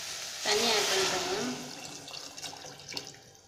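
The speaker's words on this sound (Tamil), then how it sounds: "தண்ணி ஆட் பண்ணிக்கோங்க." Water pours into a pot of vegetable soup in one steady splashing stream that lasts about a second, then fades to quieter trickles and faint clinks.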